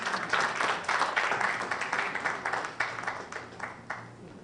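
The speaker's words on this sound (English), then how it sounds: "Please welcome her with a round of applause" An audience applauds in welcome for the Managing Director, Mrs. Nana Ekuya Akuma Asari, at the launch of NSMQ 2022. The clapping is dense, sustained and fairly distant, rolling steadily throughout.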